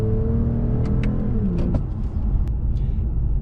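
A 2020 Toyota Avalon TRD in sport mode with paddle shifting pulls out of a corner, engine droning low then dropping in pitch as a slow upshift comes through, followed by a steadier rumble with a few light clicks.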